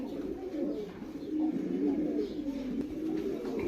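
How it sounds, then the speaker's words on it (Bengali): Pigeons in a loft coo continuously, a soft low rolling murmur from several birds close by, with faint chirps and a little background talk. "দেখেন খুব সুন্দর একটা কবুতর"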